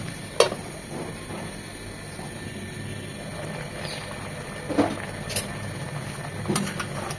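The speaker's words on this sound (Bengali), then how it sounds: "একটু পরপর নেড়ে এটাকে পুরোপুরি সেদ্ধ করতে হবে।" A spoon scrapes and stirs raw mango chutney cooking in a pan, a few sharp clinks and scrapes over a low, steady simmering sizzle, close by with no talking.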